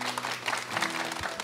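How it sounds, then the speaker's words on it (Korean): A studio audience claps briefly during a Korean television broadcast on jobs, a short patch of steady applause with a low hum beneath it. "박수 부탁드리겠습니다"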